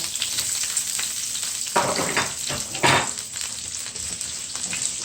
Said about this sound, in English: So now I'm gonna just put the garlic with the onion in the skillet.